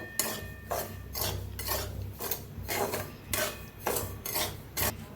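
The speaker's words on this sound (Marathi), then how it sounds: "रवा छान असं हलवून भाजूया" A spoon scrapes dry semolina around a hot kadhai with no oil yet, making steady rhythmic rasping strokes roughly twice a second, close and fairly soft, with a faint low hum underneath.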